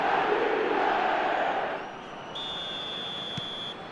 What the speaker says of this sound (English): the crowd are reacting to that now